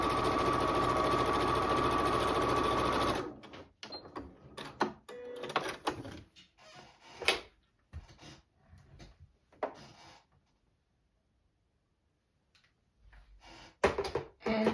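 A sewing machine runs steadily for about three seconds while stitching the left side onto a quilt unit. Brief fabric handling and light clicks follow, then near silence.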